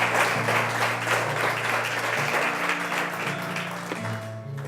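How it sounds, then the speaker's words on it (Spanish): A church congregation applauding during worship, sustained steady clapping from the room under held organ or keyboard tones, gradually easing off toward the end. "Démosle un aplauso al Rey, iglesia. Más aplausos al Señor,"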